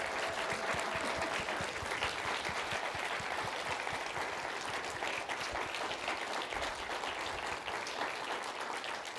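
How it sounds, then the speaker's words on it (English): An audience at an academic contest program gives a sustained round of applause, dense steady clapping lasting throughout at moderate volume without a break. "let's have one more round of applause for all of our participants"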